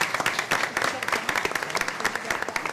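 An audience at a school board meeting breaks into sustained, dense applause for a student honored as senior of the month and her family, the clapping loud and continuous throughout.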